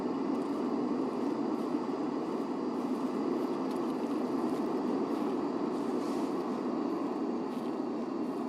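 An aircraft roars overhead in the Gray Zone Warfare shooter, a steady, loud broadband engine drone that holds at a constant level throughout with no clear rise or fade, and no talking over it.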